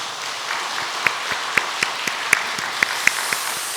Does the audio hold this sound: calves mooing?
no